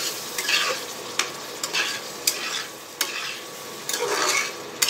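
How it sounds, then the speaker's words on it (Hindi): Paneer stirred in a frying pan, a run of soft scraping strokes with sizzling frying sound and occasional sharp spoon clicks against the pan, close and alone with no talk. "थोड़ा पनीर डाल लेंगे। अब इसे मिक्स करेंगे।"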